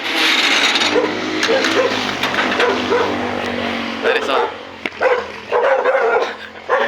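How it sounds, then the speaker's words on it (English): A dog barks in short repeated bursts close by, mixed in with someone talking over a steady background hum. "there's the dog again"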